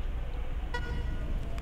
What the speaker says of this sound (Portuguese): pode ser qualquer uma buzina, acho que essa aí tá de boa mesmo